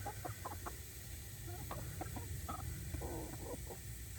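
Chickens clucking in short, scattered bursts over a steady background hum, fairly faint and at a moderate distance.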